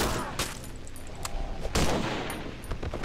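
Gunshots in the horror video game Cry of Fear, a few sharp bursts and single cracks spread irregularly across a short stretch, loud and close, mixed with game noise.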